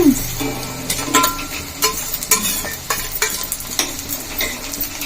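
Coriander seeds and spices being roasted in a pan, with a steady sizzle and repeated sharp scraping and stirring clicks from a spoon, close and clear.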